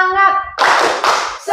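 A group of participants claps a short rhythmic chant pattern in a classroom training session, loud and close, with voices chanting along between the claps.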